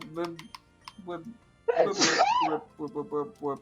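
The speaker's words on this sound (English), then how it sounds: "I sneezed." A single loud sneeze bursts out in the middle of casual chatter during a Pokémon Emerald co-op game session, with voices talking before and after it.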